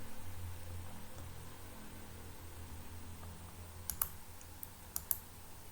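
A few faint, sharp computer mouse clicks near the end, set against steady low background hiss.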